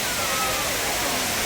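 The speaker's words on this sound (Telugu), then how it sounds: "సో ఇదైతే మా గండహతి వాటర్ ఫాల్ అనమాట." The Gandahati waterfall in full flow, heard as a loud, steady roar of rushing water that stays constant throughout.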